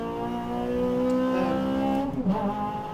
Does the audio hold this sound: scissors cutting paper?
no